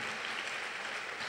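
Audience applause at a Carnatic classical music concert in honor of a performer: a brief, dense, even wash of many hands clapping, moderately distant and steady throughout.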